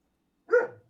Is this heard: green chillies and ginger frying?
no